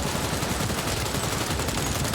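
A firefight in Cyberpunk 2077 produces dense, continuous gunfire with overlapping rapid shots, loud and unbroken throughout.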